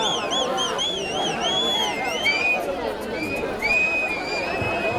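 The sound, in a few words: crowd cheering and whistling at a bull-taming event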